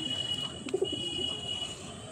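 Kaldama Madrasi pigeons coo softly at close range, a couple of low calls standing out briefly in the middle against a quiet background hum.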